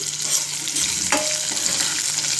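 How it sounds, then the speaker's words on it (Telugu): Green chilies and onion fry in a pan for upma, giving a steady, close sizzle with soft stirring scrapes throughout and no talking. "పచ్చిమిరపకాయలు వేగి ఉల్లిపాయలు ఒక ఉల్లిపాయ సరిపోతుంది అనుకుంటున్నాను"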